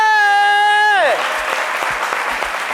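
Audience at a midday talk show breaking into applause right after a loud sustained tone cuts off, with fairly close, steady clapping filling the rest of the moment.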